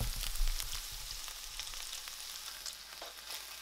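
Pork browning in a hot pan gives a steady, close sizzle and crackle with a few soft stirring clatters, louder at the start and then settling to an even hiss.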